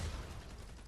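Explosive rounds detonate in Fortnite Save the World as a dense, roaring wash of blast noise. The sound fills the whole brief moment at a fairly low, steady level, with no voices.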